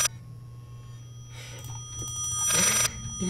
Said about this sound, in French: Il me saoule ce téléphone. Y'a pas moyen que je le fasse taire.